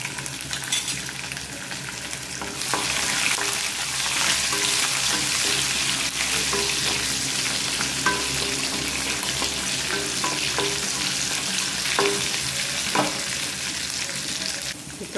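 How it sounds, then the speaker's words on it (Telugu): Onions and spices fry in a pan for rajma masala curry, with cut green chilies added; a steady close sizzle runs throughout as a utensil stirs and scrapes, making occasional clinks against the pan. "ఇవన్నీ ఫ్రై అయ్యాక దీనిలోకి కట్ చేసుకున్న 2 పచ్చిమిర్చి వేసుకోవాలి."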